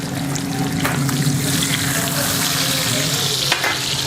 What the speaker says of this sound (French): on va venir nourrir le gras, nourrir la viande tranquillement, tout en contrôlant la flamme pour ne pas brûler le beurre